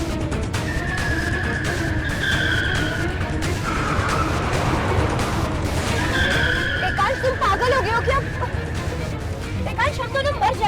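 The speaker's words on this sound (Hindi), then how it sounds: "एकांश, ऐसे क्यों गाड़ी चला रहे हो?" A car driven recklessly on a road skids, with long tyre squeals and engine noise surging twice amid a busy, loud mix, while people talk over the commotion.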